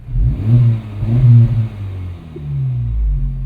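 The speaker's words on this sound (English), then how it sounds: "let's roll the window down real quick and listen to the exhaust mode in its different settings. So here's Comfort." A 2024 Acura Integra Type S in Comfort exhaust mode gives a low, rumbling exhaust note heard through an open window, swelling twice with revs before easing into a steady drone, no speech.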